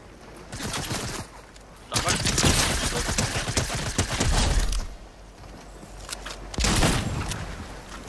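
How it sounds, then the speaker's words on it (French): Gunfire in a multiplayer shooter video game, with dense bursts of rapid shots and crackling volleys in several loud clusters, under casual player chatter. "Ça me tire dessus."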